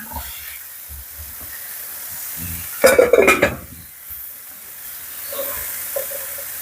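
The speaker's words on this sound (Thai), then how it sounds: "คลุกเคล้าส่วนผสมให้เข้ากันนะคะ" Fried soft-shell shrimp with chili, salt and spring onions being tossed in a hot pan, giving a brief loud burst of scraping, rattling and sizzling near the middle, with quieter frying before and after.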